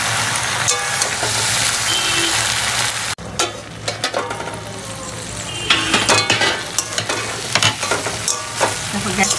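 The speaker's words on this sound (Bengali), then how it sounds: "বাড়িয়ে দিয়ে আমি একটু নাড়াচাড়া করে নিচ্ছি, এখনো হয়নি।" Mixed vegetable curry being stirred in a pan over raised gas heat, a loud dense sizzle that drops off sharply, then resumes with repeated spatula scrapes and clinks against the pan.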